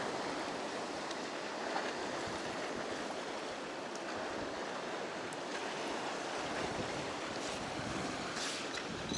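Steady rushing surf with continuous wash and splash of Black Sea water over a pier in winter, loud and close, with wind noise, no voices.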